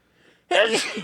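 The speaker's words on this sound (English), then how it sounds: "I'm gonna sneeze." A single sharp, close sneeze bursts out after a half-second of near silence, loud and breathy, trailing off quickly.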